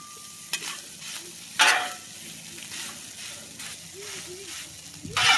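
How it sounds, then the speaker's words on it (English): Hibachi fried rice being stirred on a hot griddle, a steady soft sizzle with scraping spatula strokes and a few sharper clacks, while a voice speaks intermittently nearby. "I just keep stirring for 2 minutes, okay?"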